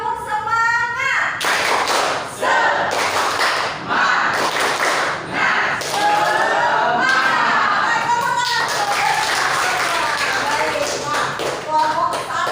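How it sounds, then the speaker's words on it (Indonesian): Indonesian schoolchildren repeat a patterned classroom spirit clap, rhythmic bursts of sharp hand claps and thuds in a lively room, with a teacher and pupils speaking and chanting throughout. "Sekali lagi ya, tepuk semangat."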